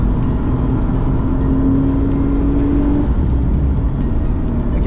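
A car engine held on light throttle on a race track runs as a steady, close hum with a faint rising tone. No voices are heard.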